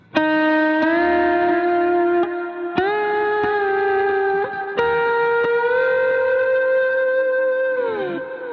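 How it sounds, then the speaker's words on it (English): Slide guitar played through a Line 6 Helix, HX Stomp or POD Go preset with compression, delay and reverb, sustained gliding notes bending up and down in several long phrases, loud and alone. "my general go-to slide tone approach, which it's just, you know, delay, reverb, it's that more compressed setting"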